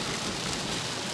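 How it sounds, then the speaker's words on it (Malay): Steady rain pours down at a race track during a wet track day session, a dense, even hiss with no breaks or voices. "Lagi-lagi dalam hujan ni kan."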